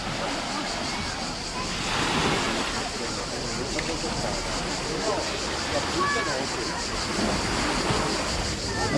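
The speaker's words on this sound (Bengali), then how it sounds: "এখানে ঢেউটাও বেশ ভালো" Continuous rushing surf of waves breaking on a sandy beach near Genoa, Italy, with wind buffeting the microphone and voices faintly mixed in.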